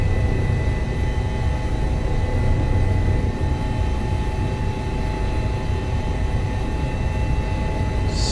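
Helicopter in a flight simulator flying around the Chamonix and Aosta Valley alps, a steady loud droning rotor and engine hum with a constant whine, unbroken and close, without talk.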